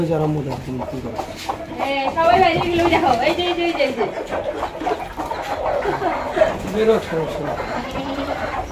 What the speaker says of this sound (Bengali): এই দেখেন মুরগির বাচ্চা হচ্ছে